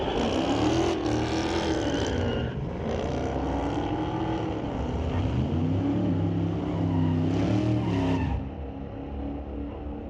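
Street-legal drag racing cars run at Mission Raceway Park, an engine droning loud and close with rising and falling revs for about eight seconds before cutting off abruptly.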